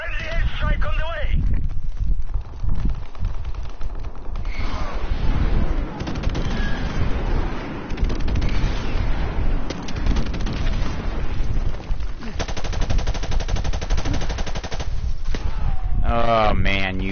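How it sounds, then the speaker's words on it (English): A friendly airstrike in Call of Duty Modern Warfare Remastered: loud, dense bursts of gunfire and heavy booming explosions fill the scene, with voices talking over the chaos throughout. "Friendly airstrike on the way."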